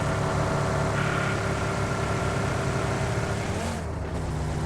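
Car engine in a video game, a steady droning hum with a constant low rumble and a slight pitch shift near the end, running under the game's sound without anyone speaking.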